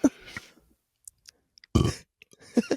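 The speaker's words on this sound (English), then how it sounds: "I just burped." A loud close burp into a microphone, a single guttural belch followed by a short laugh-like sound and small clicks.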